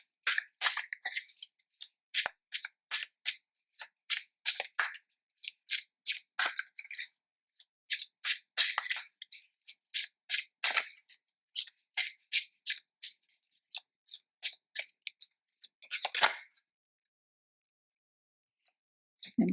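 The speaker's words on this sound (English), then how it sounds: "So I'm just going to cut the deck." Tarot cards being cut and handled, giving a long series of crisp, quick flicks and snaps in uneven bursts, close and fairly quiet, ending in silence.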